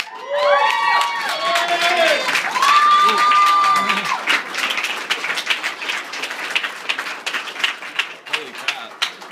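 An awards ceremony audience cheers, whoops and claps loudly, the shouting dense at first and then thinning into scattered applause, with voices rising over the noise early on.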